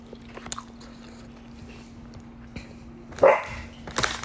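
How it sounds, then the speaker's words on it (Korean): A crunchy Teletubbies cookie is bitten close to the microphone. A single sharp crunch stands out near the end over a quiet background. "텔레토비 쿠키 먹방 소리 같아"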